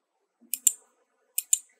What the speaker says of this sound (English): click inside this, double click to open this script